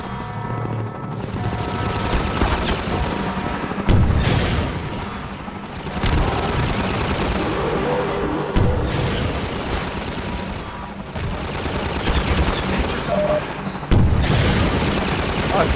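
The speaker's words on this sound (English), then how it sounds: "Take that gunship missile, you'll never forget. Aye, copy that. Use the launcher's laser guide to steer your rocket." Rocket launcher fire and explosions in a fight against a gunship in Half-Life 2, with several heavy booms and bursts of gunfire in uneven clusters, loud and close, mixed with spoken lines.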